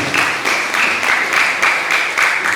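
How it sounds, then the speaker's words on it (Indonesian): Audience applause at an anniversary celebration of a Buddhist temple (vihara) community, a steady wash of clapping with rhythmic surges, fairly loud and continuous throughout with no talk. "Beri tepuk tangan"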